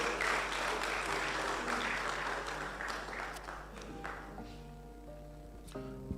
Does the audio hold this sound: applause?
yes